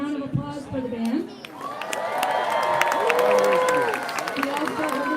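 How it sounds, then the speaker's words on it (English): Outdoor crowd in St. Augustine, Florida, clapping and cheering for a band at a holiday light festival, a swell of applause with shouts and whoops over background voices and chatter. "we need to definitely offer a round of applause for the band"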